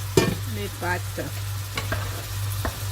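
Pasta with minced meat sizzles in a pan as a utensil scrapes and stirs it, giving short clattering knocks over a steady low hum and fry hiss.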